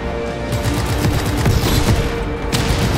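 A chain reaction of explosions and rapid gunfire in the video game Just Cause 3 keeps up a dense, loud barrage of booms and shots for the whole stretch.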